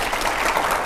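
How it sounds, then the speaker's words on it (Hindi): Studio audience applauding at a televised Indian political interview, a brief burst of loud, dense clapping with no pauses. "जरा जोरदार तालियां जरूर हो प्लीज"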